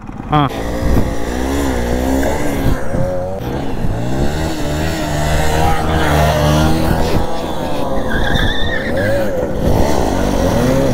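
A motorcycle engine revs and whines in rising and falling bursts while the rider holds a wheelie, with someone talking loudly over it the whole time.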